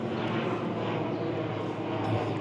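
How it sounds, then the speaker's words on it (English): Propeller airplane drone passing high overhead on a fine day above an open sculpture park in New Zealand, a steady low rumble that holds for a few seconds with no voices. "That plane up there's going."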